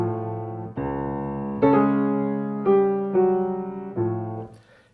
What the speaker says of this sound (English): Shortly after Petrushka dies, the magician comes back, and his music sounds like this.